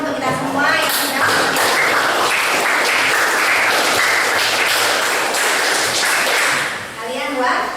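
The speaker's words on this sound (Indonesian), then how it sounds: "tepuk tangan dulu lah untuk kita semua yang sudah" Students in a classroom lesson break into steady, dense hand-clapping for several seconds, loud and continuous before tapering off, with voices briefly audible at the edges.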